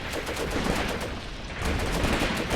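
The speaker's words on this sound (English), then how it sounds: "more explosions, very close fire" Rapid gunfire crackles in the World War II tactics game Graviteam Tactics Mius-Front, dense overlapping bursts and rattling volleys at close range, loud and continuous with no talking.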